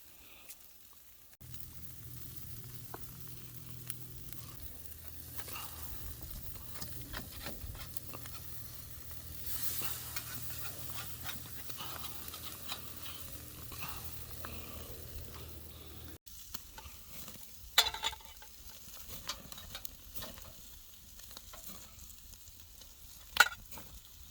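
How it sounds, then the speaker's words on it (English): Burgers sizzle on a camp grill outdoors with a soft, steady frying hiss and scattered pops, after which come a few sharper clanks and scrapes toward the end, with no talking. "I'm going to throw a couple of burgers on here"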